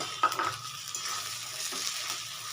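Spice paste sautéed with shrimp and ground lentil paste in a pan for pointed gourd dorma: a steady, close sizzle broken by spatula stirring and scraping, with no voices.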